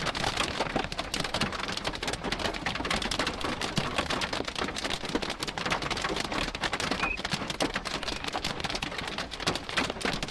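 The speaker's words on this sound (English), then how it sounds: "A lot of hail's falling." Hail pelts down steadily during a hailstorm in Oklahoma, a dense, loud, continuous patter and rattle on surfaces lasting throughout, with no voices.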